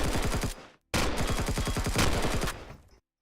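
Turret gunfire in the video game Empyrion Galactic Survival: a rapid automatic burst, a brief break, then a longer sustained stream of closely spaced shots, loud and close, ending abruptly.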